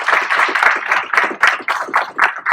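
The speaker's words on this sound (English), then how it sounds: "let's give these ladies a round of applause" A small group claps for the ladies at a church gathering, a quick burst of hand claps close by, lively and uneven for a couple of seconds.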